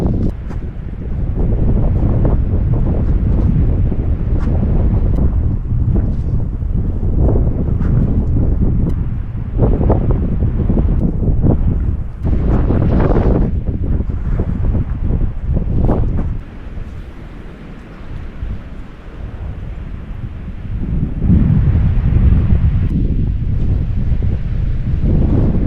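Strong wind buffets the microphone outdoors by an alpine lake in the Alberta Rocky Mountains, a loud continuous roar with gusty surges and a brief lull.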